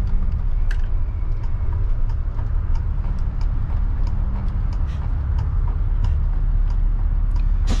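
A 1990 MCI 102C3 coach bus accelerating, heard from inside: a loud, steady low engine drone with rattles and faint ticking over it, holding constant throughout with no talk.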